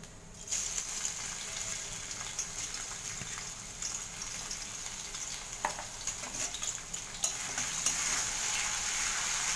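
Ginger, garlic and chili paste fries in hot oil in a kadhai, giving a steady, close sizzle that holds for the whole stretch with soft crackles and stirring noises.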